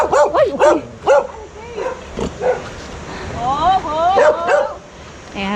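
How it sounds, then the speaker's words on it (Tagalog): Stray dogs outdoors near Silvermine Cave in Mui Wo village on Lantau Island, Hong Kong, bark, yip and whine in a loud, busy flurry while people talk over them. "Ang daming stray dogs!"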